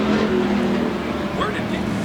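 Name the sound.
bomber class race cars racing at Central Arizona Speedway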